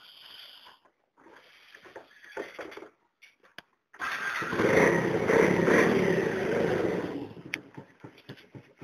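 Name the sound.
Dafra Zig motorcycle with modified loud exhaust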